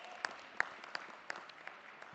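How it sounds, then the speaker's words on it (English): Sparse applause at a medical conference session, a few scattered distinct claps standing out over a faint, thin background of clapping, quiet and distant. "Give him a big round of applause."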